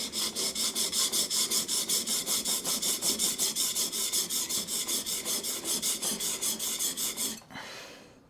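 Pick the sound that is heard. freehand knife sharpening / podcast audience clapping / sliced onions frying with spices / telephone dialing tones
freehand knife sharpening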